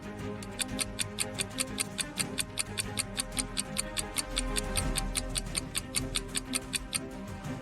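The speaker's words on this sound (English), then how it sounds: "there's a clock right above the door" Steady, even ticking from a wall clock mounted above a door, with sharp clear ticks arriving about four times a second for the whole stretch over a low room hum, and no voices.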